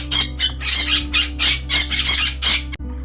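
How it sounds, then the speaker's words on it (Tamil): A parrot squawks in a rapid run of harsh, raspy bursts, loud and close, with only brief pauses between calls and no other sounds. "கிளி கீச்சிடும்."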